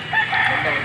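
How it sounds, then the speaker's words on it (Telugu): Chickens and a rooster at a temple, with a short, loud, close call that rises and falls within a second. "గైస్ ఈడైతే దేవుని కోళ్ళు జాస్తి ఉంది."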